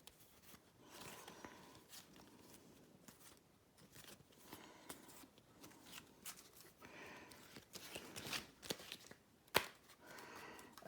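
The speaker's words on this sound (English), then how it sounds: "if I could shuffle properly, that would help" Repeated riffling and flicking of playing cards being shuffled close by, with soft rustles and a sharp snap near the end.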